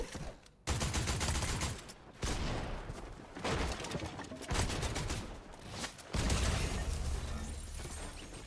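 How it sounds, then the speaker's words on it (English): Gunfire from a Fortnite match, where a hunter rifle is in play among dense bursts of shots and rapid volleys that come in waves with brief gaps, loud and close, with no talking. "Is that a hunter rifle?"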